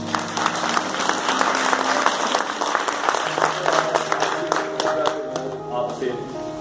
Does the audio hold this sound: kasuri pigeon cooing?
no